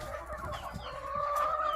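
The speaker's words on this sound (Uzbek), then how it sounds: "O'sha xo'rozlar 3 tasi mana shu yerda ekan." Several roosters in a backyard coop give a brief run of close clucking and throaty warbling calls, steady and moderately loud, with no voices.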